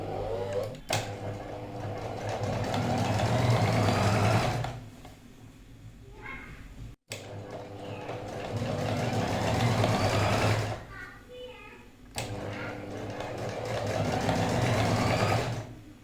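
Long stretches of steady sewing machine hum and needle chatter while stitching a cut neckline with lace and a zip onto buckram, each run stopping briefly before resuming, with a voice talking over it.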